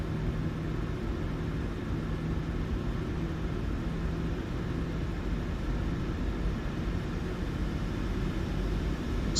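A Norwegian PMDG Boeing 737-800 spools its engines for takeoff at Oslo in Microsoft Flight Simulator 2020, a steady, dense roar and rumble that holds unbroken throughout with no voices.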